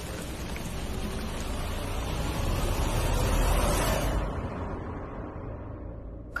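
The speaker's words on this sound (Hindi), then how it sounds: "काश ये बारिश बंद हो जाए" Steady rain pours down continuously, a dense broadband hiss that swells slightly in the middle, then thins toward the end as it fades off; no one speaks.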